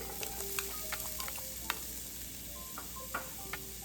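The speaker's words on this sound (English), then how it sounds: "I'm going to start with 3 tablespoons of oil. I'm going to add the garlic" Garlic sizzles in three tablespoons of hot oil, a steady, close frying hiss with small pops and crackles scattered throughout.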